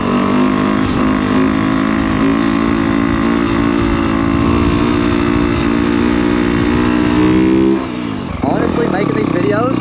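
A Yamaha YZ250F dirt bike holds a long wheelie, its engine buzzing loud and steady at high revs before briefly cutting and revving again, with a rider talking over it.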